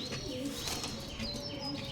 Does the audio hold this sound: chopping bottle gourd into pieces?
no